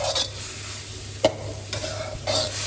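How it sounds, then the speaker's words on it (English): Steady sizzling of Thai stir-fry sauce for crispy pork belly and Chinese broccoli frying in a hot pan, broken by a few sharp scraping strokes of a utensil stirring against the metal. "Continue frying until the sauce is thick and sticky."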